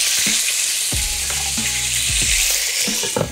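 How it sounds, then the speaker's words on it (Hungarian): Duck breast steaks sear hard in a hot pan, giving a loud, continuous sizzle broken by sharp pops and spatters, with no talking. "A lényeg, hogy mind a kettőt jól süssük körbe, erősen, hirtelen."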